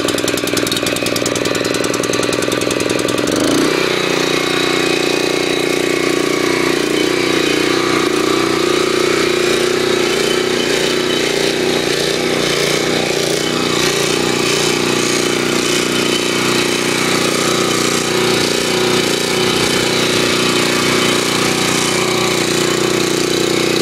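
A BCS 712GX8 tiller engine cold-starts and, its throttle stuck, settles into a loud, harsh, steady roar at high speed, very close and continuous with no talking.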